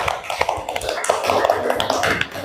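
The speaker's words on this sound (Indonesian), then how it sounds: "Tepuk tangan buat kelompok" Classroom applause for a group of students, an uneven patter of many small hands clapping with some loose taps and snaps, moderately loud and close, with faint voices underneath.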